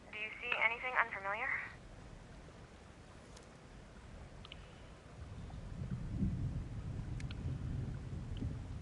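Low, rolling thunder in the video game The Evil Within 2 builds as a deep rumble through the second half, following a brief bright tonal burst at the start and a quiet stretch.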